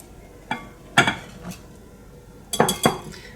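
Lemon biscuit dough being mixed in a bowl with a whisk or wooden spoon, heard as a few scattered clinks and knocks against the bowl, two near the start and a quick cluster later, with quiet gaps between.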